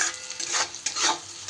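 Crushed garlic frying in a pan on a low gas flame, a brief soft sizzle rising and falling in gentle bursts, with no voices.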